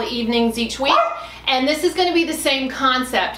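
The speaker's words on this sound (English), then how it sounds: "excuse my dog" A dog barks and yips repeatedly indoors during a chair Pilates workout, the barks overlapping with a woman's steady instructional speech.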